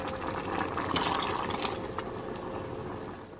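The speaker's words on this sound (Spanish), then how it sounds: "Le ponemos la otra taza de agua" A cup of water poured into rice in a cooking pot makes a steady, close splashing gush that fills the clip, easing slightly toward the end.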